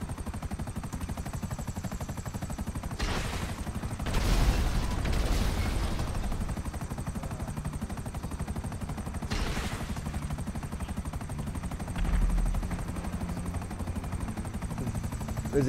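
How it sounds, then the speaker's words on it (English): A helicopter flies in GTA 5, its dense rotor chop and turbine whine running steadily and loudly throughout, with a few bursts that swell louder over the constant drone. "Good thing I got my helicopter."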